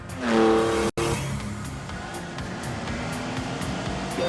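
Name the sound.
Lamborghini Countach 5.2-litre V12 engine accelerating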